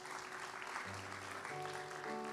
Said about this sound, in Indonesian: Come on, beri tepuk tangan pada Tuhan.